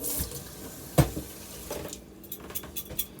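Water from a kitchen sink sprayer rinses cake-baking dishes in short irregular bursts, a sharp clatter near the start and softer splashes and drips trailing off, close by and fairly quiet.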